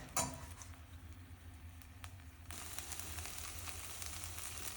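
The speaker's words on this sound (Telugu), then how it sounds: "అప్పుడప్పుడు ఫ్రై చేస్తూనే ఉండాలి." Chicken curry masala sizzles and fries in hot oil in a pan, a steady close crackle with a faint clink at the start and a louder, denser hiss in the second half.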